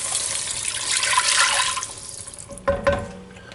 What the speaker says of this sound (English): to that, we're going to add 2 cups of water.